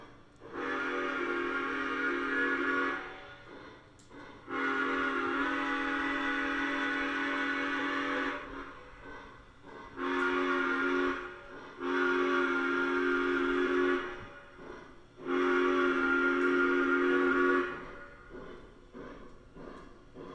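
A model steam locomotive whistle sounds five times in long and short blasts, clear and fairly close, with brief quiet gaps between them.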